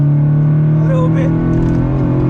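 Subaru BRZ making about 230 horsepower, engine droning loudly at a steady high pitch while under way, heard from inside the car with a voice speaking over it.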